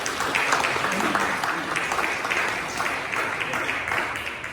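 Church congregation applauding during a Sunday worship service, steady dense clapping filling the room at moderate level throughout, with faint voices mixed underneath.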